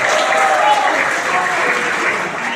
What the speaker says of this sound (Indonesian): Tepuk tangan untuk milenial.